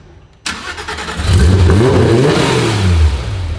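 A rebuilt, previously crashed Porsche GT3 RS engine catches and revs loudly, the pitch climbing and falling in a sustained roar close by, with no talking.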